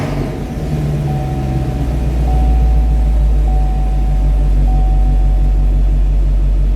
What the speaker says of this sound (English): So now I'm going to start the car and make sure we get 12 volts.